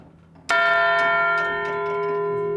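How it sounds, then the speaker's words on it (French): A small external hammer strikes a church bell once, loud and close. The metallic ring rises suddenly and sustains with rich, lingering overtones that slowly fade. "il y a des petits marteaux à l'extérieur, et en fait, il va se propulser contre la cloche"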